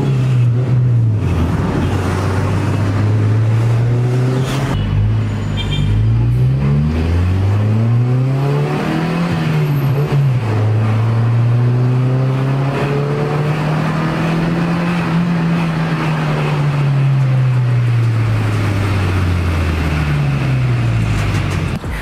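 Honda Civic 1.6 16v exhaust fitted with an RCI Race Chrome Go Power 5-inch sport muffler, giving a loud, steady, smooth drone that swells and dips as the engine is revved up and eased off, with no talk.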